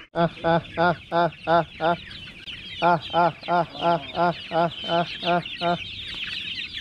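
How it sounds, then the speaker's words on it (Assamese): Chickens cluck in a steady series of about a dozen short calls, pausing briefly midway before the rhythmic clucking resumes, fairly close. "আৰু এয়া হৈছে মুৰ্গী যথেষ্ট মুৰ্গী আছে ইয়াত"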